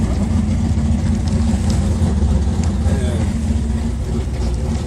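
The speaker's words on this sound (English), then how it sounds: "This I think it's Camaro back here. It's just nuts. That volume." A Chevrolet Camaro engine at a Friday night drag race, a loud, continuous deep rumble that holds steady throughout, heavy and close, with a voice speaking over it.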